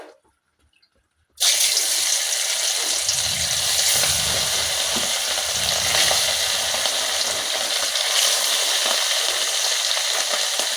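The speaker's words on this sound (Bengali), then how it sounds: "মাছটা ভাজা চলছে, প্রায় ভাজা হয়ে গিয়েছে" Fish frying in hot oil in a pan, starting after a brief quiet moment with a sudden loud, continuous hiss and crackle that stays dense and close, without any talking.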